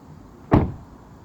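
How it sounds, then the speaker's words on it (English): A Toyota car door shuts with a single solid thump, close and fairly loud, against a quiet background. "close the door"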